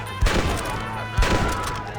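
Gunfire in Red Dead Redemption, two heavy, close shots about a second apart over a constant rumbling game background, with no talking.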